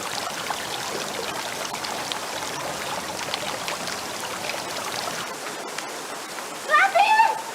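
Rain falls in a steady, even hiss that fills the scene without letup, and a brief voice cuts in near the end.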